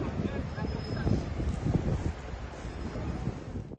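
Strong wind buffets the microphone in a steady, low roaring rush, with surf-like noise continuing throughout.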